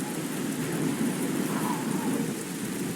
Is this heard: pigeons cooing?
no